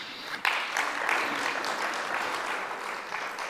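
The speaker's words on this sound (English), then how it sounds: "I think we owe her another big round of applause." A round of applause from mourners at a memorial service for the late Dumile Mateza, a dense steady patter of many hands kept up at a moderate level throughout.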